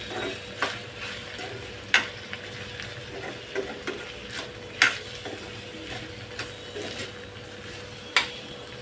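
A spoon stirring dhana-jeera (coriander-cumin) powder into a pan of ivy gourd (tondli) bhaji, with sharp scraping clinks at irregular intervals over a low, faint sizzle, close by and with no talking.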